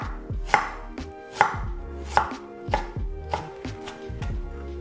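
A knife chops ingredients into pieces on a cutting board while Filipino chicken inasal is being prepared, with about seven firm, evenly spaced strokes up close and no talking.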